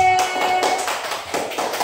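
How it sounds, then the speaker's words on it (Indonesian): Classroom applause for a student group presenting vegetable plants, a short burst of many hands clapping in a dense patter, near and fairly loud. "Beri tepuk tangan dulu untuk kelompok B."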